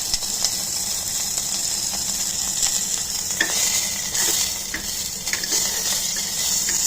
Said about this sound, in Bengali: আমি একটু ঘি দিয়ে আগে একটু চিকেনটাকে নেড়ে নেবো ভালো করে